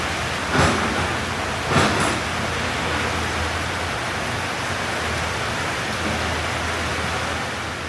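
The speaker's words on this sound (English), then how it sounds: "Rain like this, yeah, it's coming down hard and the wind's starting to blow." Steady, heavy rain pours down in Malaysia with a broad rushing hiss and gusting wind, with a couple of brief louder splashes near the start.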